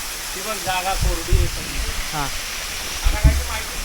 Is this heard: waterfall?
yes